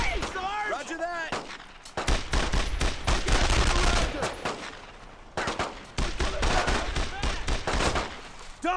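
Heavy gunfire rages in a World War II squad battle against German paratroopers in Brothers In Arms: Road to Hill 30, with dense, loud rifle and machine-gun bursts almost throughout and soldiers shouting between and over the shots.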